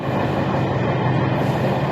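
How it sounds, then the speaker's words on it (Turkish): Steady rumble of a train in motion, heard from inside a carriage, with a dense low roar and a faint rattle holding evenly throughout, no voices. "işte trendeyim şu anda"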